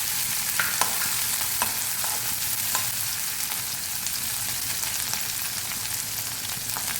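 Chopped green chillies stirred into baingan bharta in a pan, a continuous soft sizzle with repeated scraping spoon strokes and light taps, close and alone.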